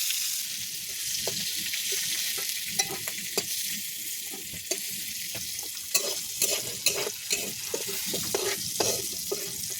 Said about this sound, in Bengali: তো ভালো করে নাড়াচাড়া করে ভেজে নেবে।